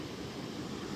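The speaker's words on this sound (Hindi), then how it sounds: "नदी की आवाज़ सुन सकते हैं" Kedar Ganga river flowing below a roadside spot on a mountain walk, a steady broad rushing wash of water, faint and continuous with no breaks.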